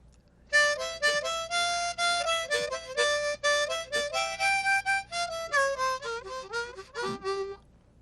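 A harmonica plays a series of short, breathy chords and bends in a loose rhythmic pattern, close and clear, with no voices.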